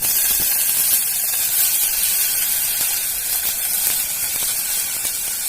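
Chopped dill leaves drop into a hot pan of fried onion and chilli, producing a loud, steady hiss and sizzle that holds throughout.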